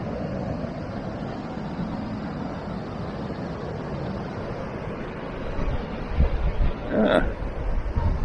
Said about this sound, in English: There's the weir.